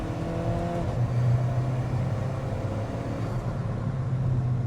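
An Alfa Romeo 4C's turbocharged engine accelerates from inside the cabin, a steady, buzzy drone rising with the boost and holding at full volume before easing slightly.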